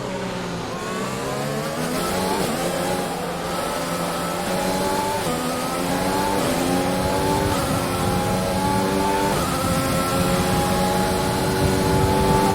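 F1 race car engine in F1 2020 gameplay, a loud, continuous high-pitched whine revving up and down through repeated gear changes, filling the whole stretch without any talk.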